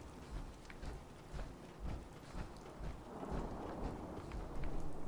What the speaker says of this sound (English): Lightning's appropriate for this location.